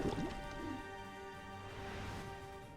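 A water attack effect from the video game Chained Echoes: a bubbly, dripping splash with gurgling liquid at the onset, then a sustained watery wash with a soft tonal ring, at moderate level.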